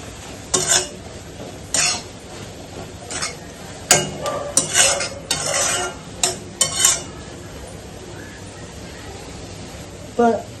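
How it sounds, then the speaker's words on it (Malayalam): A spoon stirs chili powder into a spinach and paneer curry in a pot, giving intermittent scraping, clinking strokes in short bursts spread over several seconds, with quiet gaps between them. "എന്നിട്ട് നന്നായിട്ടൊന്ന് നമുക്ക് മിക്സ് ആക്കി കൊടുക്കണം."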